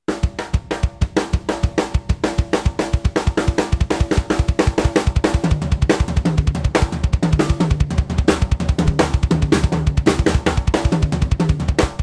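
Rapid, continuous drum fill mixing quick hand strokes with thumping bass drum hits, dense and driving with no talking.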